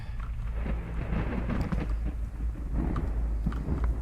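Thunder rumbles low beneath steady rain in a horror video game set in an abandoned building, with a continuous stormy wash and a few sharper rolls.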